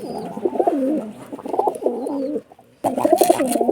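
Caged pigeons at a Beldanga market in Murshidabad coo in close, overlapping rolling phrases, with a brief lull before the cooing resumes loudly.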